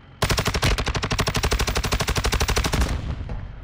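A fast, evenly spaced burst of automatic gunfire in Warzone 2 starts abruptly, rattles loud and close for about two and a half seconds, then stops with a short fading tail.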